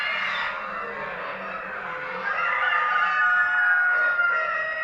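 A crowded hall of ornamental show chickens and roosters at a fancy poultry competition in Afyon, Turkey keeps up a loud, steady din of crowing and clucking. It swells a little toward the end, with no voices.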